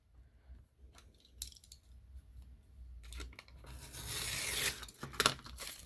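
Scissors cutting through a folded paper bag to make a junk journal cover, close quiet snips and crinkling paper that build into a louder tearing rustle near the end, with no voices.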